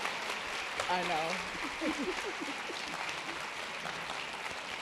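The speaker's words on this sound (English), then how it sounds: "Let's give her another round of applause." Applause from a luncheon audience at a Habitat for Humanity women's fundraising event, a steady broadband wash of clapping across the room with a brief spoken remark over it.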